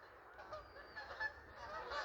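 Geese pass overhead, their honks layered and continuous, fairly faint and distant, with a soft outdoor background and no voices.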